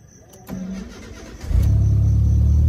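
A 4G15 engine run on a Speeduino ECU cranks and fires up, settling into a loud, steady idle as the revs climb and hold, close by with no talk.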